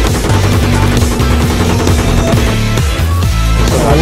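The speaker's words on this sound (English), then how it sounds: "load those machine guns. Fire around, fire back there" Rapid automatic gunfire in Battlefield 3 rattles loud and continuous, bursts of machine-gun shots layered densely over one another with no break and no talk.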